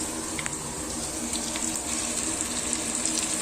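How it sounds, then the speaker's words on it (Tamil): Ground tomato frying in a prawn gravy, a dense, even hiss of bubbling and sizzling that runs unbroken and close throughout, with only faint knocks within it. "தக்காளி வதங்கிட்டு இருக்கு"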